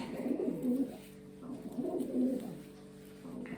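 Young pigeons from the first and second winter and early-spring broods coo in low, repeated throaty phrases, two clear bursts close by with softer murmuring between.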